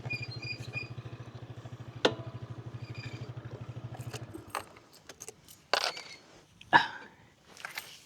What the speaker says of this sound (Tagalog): Teka, park na lang muna natin tong motor dito.